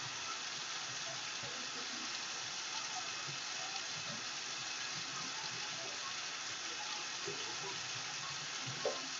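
Running water streams steadily from a tap while hands are scrubbed with soap, a continuous soft hiss with faint rubbing and splashing, close and fairly quiet.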